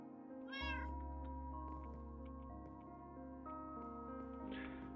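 A cat meows in the Minecraft video game, a single bright rising-and-falling call near the start over a steady layer of in-game music, with a softer second meow-like sound near the end.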